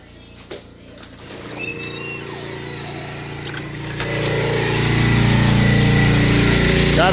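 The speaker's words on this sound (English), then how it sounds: "Still running the generator on the outside of the front yard and in the backyard." Portable generator running outdoors in a front yard, its engine hum building and growing louder over several seconds alongside some clanking and background noise.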